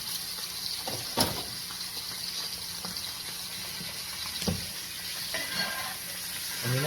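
A steak fries in a pan with butter, giving a steady close sizzle with occasional sharper pops and crackles rising above it.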